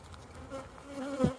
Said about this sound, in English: Oh, it's starting to buzz in there.